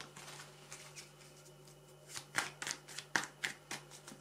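Tarot cards are shuffled by hand, first as a soft papery rustle, then as a run of crisp, close riffling snaps in quick bursts; no one speaks.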